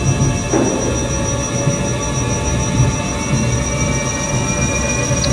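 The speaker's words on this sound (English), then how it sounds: "We got a laundry or a dryer or a washing machine in back, so that's what that noise is." A clothes dryer or washing machine running in a back room, making a continuous low rumbling drone with faint steady tones, alone without talk.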